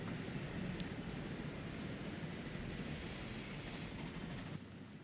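A saddle tank steam train from the 1850s rolls along the rails in Transport Fever 2, a steady rumbling wheel noise with faint high squeals, loud and continuous, fading slightly at the end.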